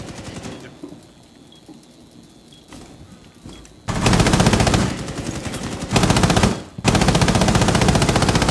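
Gunfire in the video game Rainbow Six Siege, a pistol among the weapons: quieter shots and ambient noise at first, then loud rapid volleys of close shooting in several bursts separated by short pauses.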